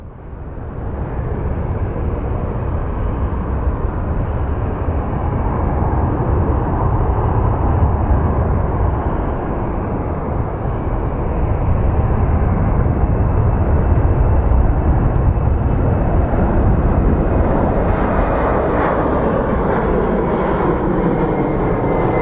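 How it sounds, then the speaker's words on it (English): Boeing 767 airliner departing at Sky Harbor airport, its engines giving a steady, loud, broad roar that holds level for the whole stretch and shifts slightly near the end. "we do have our 767 about to depart"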